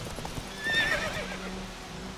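A horse in The Witcher 3 neighs loudly and close, with hoofbeats clopping underneath for a couple of seconds in the White Orchard area.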